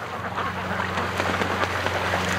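Ducks at a lake give a few scattered quacks over a dense, steady wash of outdoor noise and a low hum, with no talking.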